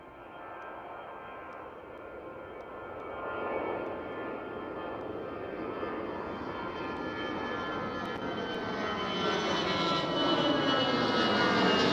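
An EasyJet airliner's jet engines at Schiphol build into a swelling roar, with a whine that rises in pitch as the aircraft grows louder and closer over the whole span. No one speaks.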